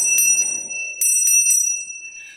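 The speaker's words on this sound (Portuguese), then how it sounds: "eu vou tocar mais uma vez esse sino para você ver como que é o som" A small hand bell rung by a teacher, several bright metallic strikes leaving a clear ringing tone that lingers and fades, heard alone and close with no talking.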